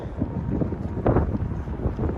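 Gusty wind buffets the microphone outdoors near the Brooklyn Bridge in Lower Manhattan, a rough low roar that swells in a strong gust midway through.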